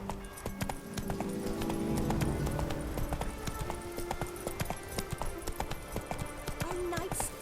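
Roach the horse gallops in The Witcher 3, with fast rhythmic hoofbeats pounding steadily throughout under game music and a spoken voice.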